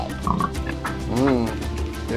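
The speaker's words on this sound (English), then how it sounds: "They're eating. Cute little baby pig." Piglets nursing from a very large sow in a Rwandan village give soft, close grunts and oinks, with muffled voices and outdoor background noise in the mix.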